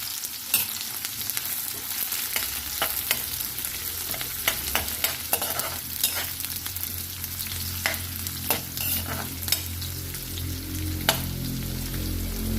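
Ginger sautéing in a pan for eggplant in coconut milk with dried fish: a steady close sizzle with scattered spatula scrapes and clicks, and a low rumble building near the end.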